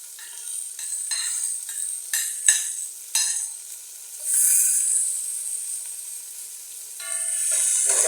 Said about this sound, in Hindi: चम्मच हिलाएंगे यहाँ तक कि गोल्डन हो जाए